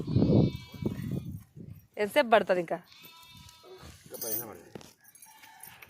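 A goat bleats with a wavering, quavering cry in the middle of the clip, while people talk nearby before and after it.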